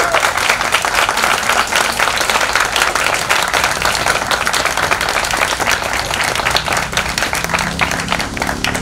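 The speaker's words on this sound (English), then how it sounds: "A round of applause for all the families." A large graduation audience applauds steadily and loudly for the families, a dense, continuous wash of many hands clapping with no break.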